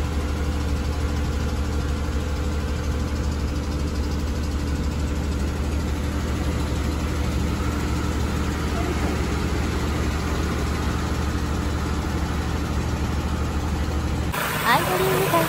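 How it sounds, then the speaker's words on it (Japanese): A carbureted engine in a Toyota Crown MS100 idles steadily at a somewhat high speed with a constant low hum and even rhythm, running alone for about fourteen seconds before an abrupt change near the end. "アクセルオフでこの回転数で安定して動き続けています"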